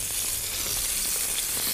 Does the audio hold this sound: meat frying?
yes